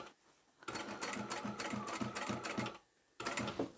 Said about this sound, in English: I'm going to guide that along the edge of the fabric